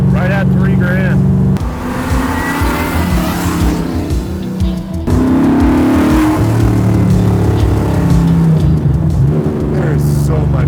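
A 1004 hp '69 Chevelle with a 632 ci big block accelerates in third gear, its loud, deep engine roar swelling and rising in pitch, while people talk over it.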